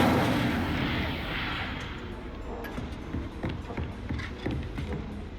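Fire spell being cast in the video game Hogwarts Legacy, a loud rushing blast that fades over a few seconds, followed by scattered crackles and clicks alone.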